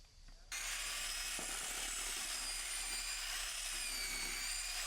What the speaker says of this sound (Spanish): con ayuda de nuestro taladro y nuestra mecha mezcladora aceleramos el proceso